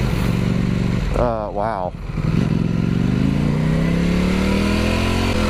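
A Ducati Panigale V4 motorcycle engine accelerating while riding, its loud droning tone climbing steadily in pitch after a brief dip, with a short exclamation from the rider near the start.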